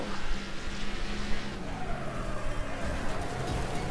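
A race car in the video game Wreckfest brakes hard into a corner, tires squealing and skidding over a steady engine roar, loud and continuous for several seconds with no talk.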